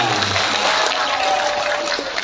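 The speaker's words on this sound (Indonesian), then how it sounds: "Segitu aja tepuk tangannya." Audience applause at a Magnet Rezeki meetup in Bandung, a dense steady patter of many hands clapping, loud and sustained throughout.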